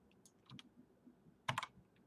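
Computer keyboard keys pressed in a quick cluster of clicks, with a few faint isolated taps before, quiet and close in a room with no talking.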